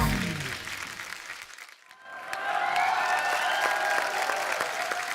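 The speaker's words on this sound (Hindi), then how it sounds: "तो एक बार कंगना के लिए जोरदार तालियां" A studio audience at a comedy talk show bursts into loud applause and cheering for the actress Kangana, swelling back to full strength after a brief dip, with a host's voice and a background musical tone.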